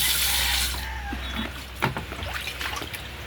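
Fresh water poured for rinsing off seawater trickles and splashes steadily for a few seconds, close by, with a brief gurgle partway through.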